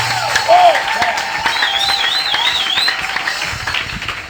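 A French-speaking church congregation applauds, a scattered mix of hand claps under voices and drawn-out rising, wavering tones, moderately loud and close throughout, with someone speaking near the end.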